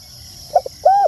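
Spotted doves call back and forth, a short soft coo and a brief note followed by a longer sustained cooing phrase, fairly close and clear over a faint hiss of insects.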